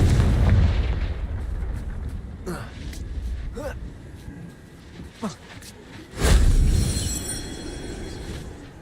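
A Confringo blasting spell in the game Hogwarts Legacy, a booming explosion that bursts out near the end after a stretch of rumbling in-game action with a few sharp cracks, loud and close.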